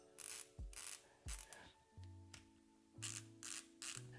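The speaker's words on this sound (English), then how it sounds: "it is a ratcheting screwdriver" Ratcheting screwdriver clicking in short bursts, several quick runs of close, crisp ratchet clicks separated by pauses, with faint handling noises.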